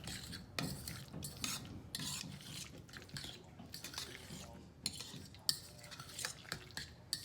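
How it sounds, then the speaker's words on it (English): Guacamole with a pinch of garlic powder is stirred in a bowl. A utensil scrapes and squelches in uneven, rubbing bursts up close, with short pauses between strokes. "Okay, give that another stir."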